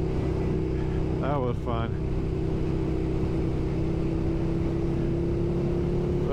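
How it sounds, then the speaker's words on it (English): A 2008 KTM 990 Super Duke R motorcycle runs with a steady, close engine drone and wind rumble throughout, with a voice speaking briefly near the start. "with a twitchy 990 Super Duke R 2008. With a quarter turn throttle."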